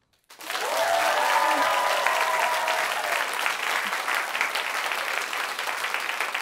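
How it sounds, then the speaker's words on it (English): A live podcast audience claps and cheers in a hall, a sudden full burst of applause that holds steady for several seconds, with a few whoops near the start. "You're going to have to applause one more time."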